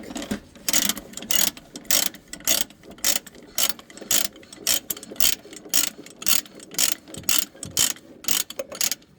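A ratchet being wound off by hand, a repeated train of loud, close mechanical clicks in steady bursts that keep a regular rhythm for several seconds, with nobody talking.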